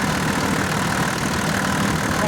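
A motor pump engine driving an irrigation pumping station runs continuously at a smooth, even idle, a steady mechanical drone close to the listener from start to finish.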